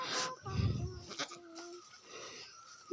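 Male goats bleating on a mountain path during a festival, with a few short bleats rising out of a quiet outdoor setting and one nearer, louder call early on.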